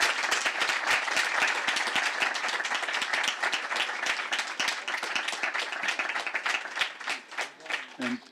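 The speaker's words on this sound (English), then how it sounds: "Now it's time for warm applause." Audience at a book event breaks into warm, sustained applause, dense steady clapping from many hands that carries on for several seconds before tapering off at the end.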